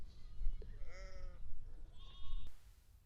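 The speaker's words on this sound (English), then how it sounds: "I could just hear the sheep grazing." Sheep grazing in a countryside field near Headcorn give a couple of clear, wavering bleats at moderate distance, one after another, over a breezy outdoor background with faint rustling.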